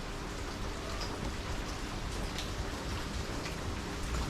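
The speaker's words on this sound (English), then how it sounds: "the sound of the rain and the thunder there" Steady, dense rain pours throughout a Thai monsoon thunderstorm, with faint distant thunder rumbling low beneath the constant hiss of falling water.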